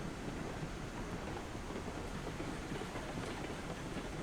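In the train simulator game Railroads Online, a steam locomotive runs with a steady, noisy mechanical rumble and faint rhythmic clatter that holds for several seconds without speech.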